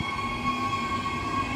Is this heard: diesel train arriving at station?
yes